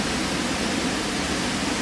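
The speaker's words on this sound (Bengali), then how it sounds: "এটার নাম হচ্ছে বুশকিল ওয়াটারফল, বুশকিল ফলস বলে এখানে, আমরা যেটাকে ঝর্ণা বলি।" The Bushkill Falls waterfall in Pennsylvania keeps up a constant broadband roar of falling water, loud, close and unbroken over a short stretch.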